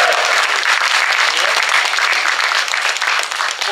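A big band concert audience claps and cheers in a dense, loud, sustained burst of applause that tapers slightly at the end.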